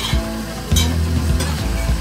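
A stand mixer with its whisk running on low through a dough mixture, a steady motor hum with soft rhythmic beating and a few louder knocks, close and alone.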